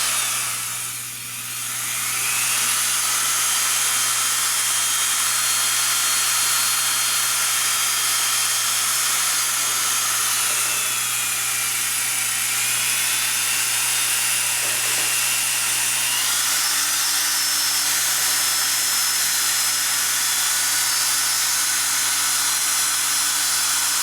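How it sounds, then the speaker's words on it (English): A drill spinning a Scotch-Brite pad whines steadily while lightly deburring the sharp edges of a Harley-Davidson 4-speed transmission seal area, a continuous high-pitched hiss and whir that shifts pitch slightly, loud and close. "What we want to do is just lightly deburr any actual real sharp edges off of that."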